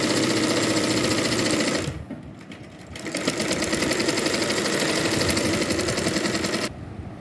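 A sewing machine runs fast and loud stitching a yoke nighty, its motor whirring in a steady drone, pausing briefly after two seconds, then resuming before stopping near the end.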